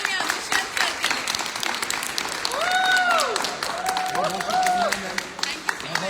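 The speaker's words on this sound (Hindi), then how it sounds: "जोरदार तालियां दुष्यंत सर के लिए।" Applause from an audience welcoming a speaker at a seminar, steady crowd clapping over about six seconds, with a voice and some tonal sounds rising briefly in the middle.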